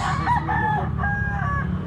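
A medium-size bullstag rooster crows with a drawn-out, wavering call over a steady low background hum, moderately close.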